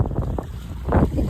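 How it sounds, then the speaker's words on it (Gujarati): Wind blowing across the open deck of a fishing boat at sea, a steady low rumble with gusting swells and microphone buffeting, fairly close and continuous throughout. "થોડો થોડો પવન છે અત્યારે મિત્રો."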